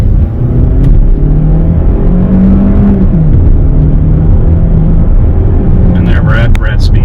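A 2017 Kia Sportage engine rumbles loudly from inside the cabin, its pitch rising as it accelerates up to speed, with a steady road drone throughout.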